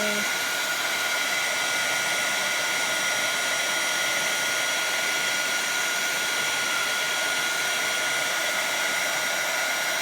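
A heat gun blows steadily on paper monogram letters being decorated, a loud, constant airy whoosh with a faint hum that runs unbroken throughout without any talk.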